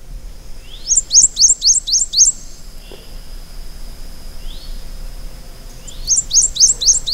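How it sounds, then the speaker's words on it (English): Recorded bird song plays outdoors to lure birds toward a mist net, with loud bursts of rapid repeated high chirps, a quieter stretch of thin faint calls, then another fast chirping series. "But to attract them even further, we play their bird song."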